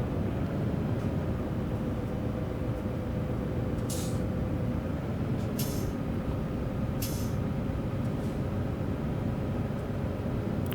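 Air brakes of a truck in Euro Truck Simulator 2 on the Grossglockner High Alpine Road, three short sharp hissing bursts over a constant loud engine drone.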